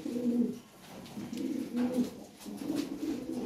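Lahore Siraji pigeons give repeated soft, low cooing calls in a steady rhythm, close by and alone, with a faint background hiss.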